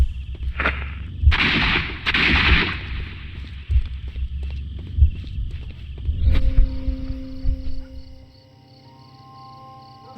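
Gunshots ring out on a street in Sherlock Holmes: Crimes and Punishments: several sharp, loud cracks come at irregular intervals, followed by a fading low hum and a faint sustained tone.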